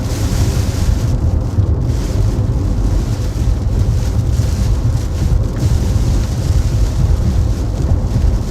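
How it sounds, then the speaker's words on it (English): A sudden strong wind gust during a storm chase in South Dakota buffets the microphone with loud, roaring, low rumbling wind noise that stays steady and close throughout, with no talking. "That was a big wind shift."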